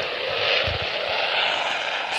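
An F-14 jet engine in a video game roars steadily on a runway, a broad, even rush of noise with a few low thumps early on and no voices.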